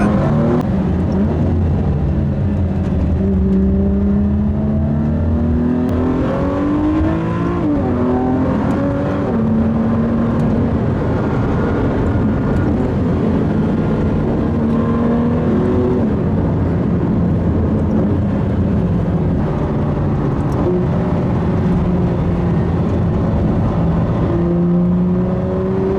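A V6 car engine runs continuously during a drive, a steady loud drone whose pitch rises and falls with acceleration and easing off, heard from inside the car with no talking.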